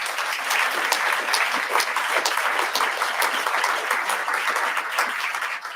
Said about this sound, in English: So one more round of applause for the group.